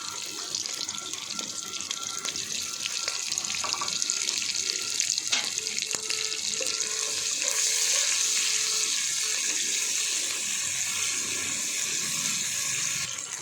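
Onion and green garlic sizzle in a hot pan for a macaroni dish, giving a steady, continuous frying hiss with faint clinks.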